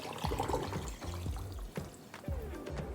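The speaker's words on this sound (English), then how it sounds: "Give it a stir and pour that over the wings" Brine of cold water, sugar and bay leaves is poured over chicken wings, a steady close splashing pour lasting several seconds with some low thumps and knocks beneath it.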